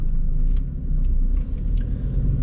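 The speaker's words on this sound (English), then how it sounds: "Slowly engaging the throttle." A car engine idles low and steady, then the throttle is eased on, the rumble rising gently as the car pulls off slowly from a green light at an intersection, close and continuous with no talk.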